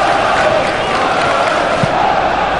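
Football crowd at a Tottenham vs Newcastle United pre-season club friendly reacting to a clean tackle, a broad sustained roar of many voices filling a stadium at steady loudness.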